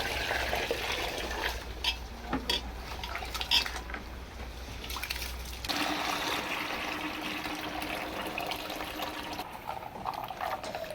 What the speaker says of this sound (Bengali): এবার হচ্ছে চালটা ধুয়ে নেব।